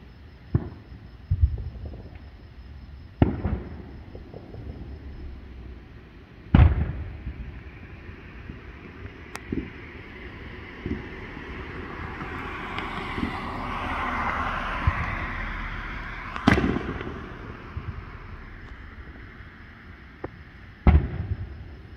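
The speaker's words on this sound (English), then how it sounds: "Oh, someone's lighting off. That's either firecrackers or a fountain." Scattered sharp bangs and pops from firecrackers or a fireworks fountain on the Fourth of July go off at irregular intervals, some distant and some nearer, over a low outdoor rumble and a hissing swell midway.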